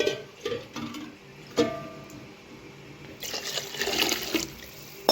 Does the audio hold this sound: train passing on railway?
no